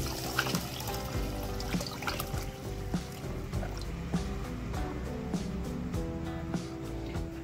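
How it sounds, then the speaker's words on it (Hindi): Water is poured into a bowl of mixed lentils being soaked for mutton haleem, making a close, continuous splashing trickle with small irregular plops and gurgles over several seconds, and no voices. "और इसमें हम पानी ऐड करेंगे।"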